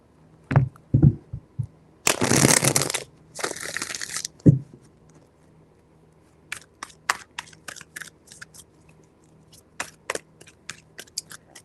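Tarot cards shuffled in quick rustling bursts, a couple of long riffling sweeps followed by a run of short crisp flicks and taps, close and fairly loud with no talking.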